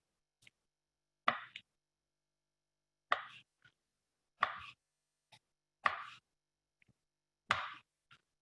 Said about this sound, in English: So first I have my beets. And I'll take that and I'm going to slice them.